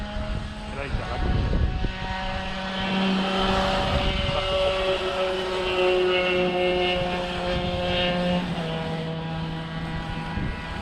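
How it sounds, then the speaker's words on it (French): A moped buzzes past outdoors, a droning engine note that swells and fades over several seconds, mixed with rustling and a voice talking nearby. "la mobilette qui vient de passer"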